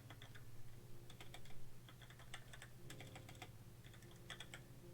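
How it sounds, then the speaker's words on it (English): Quick bursts of clicking keystrokes on a computer keyboard, close and fairly quiet, coming in uneven clusters with brief pauses between runs of typing. "I'm amazing at typing, guys"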